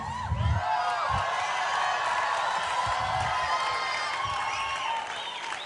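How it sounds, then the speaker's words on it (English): At a Tony Robbins seminar, a large audience cheers for Warren with loud, sustained applause, whoops and shouting that fill the whole stretch at steady strength. "Why do you think these people were cheering for you like that?"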